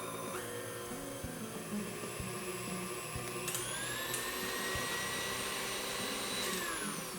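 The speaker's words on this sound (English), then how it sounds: "Put your whisk back on and give it a whirl." An electric mixer with a whisk attachment whirs steadily through cake batter, a continuous high-pitched motor whine that shifts pitch partway through and keeps running without pause.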